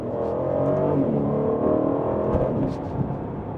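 A 2022 Aston Martin Vantage V8 revs hard through its exhaust, a loud, continuous engine roar heard from close by that holds steady and then eases slightly, with a sharp pop near the end as it downshifts.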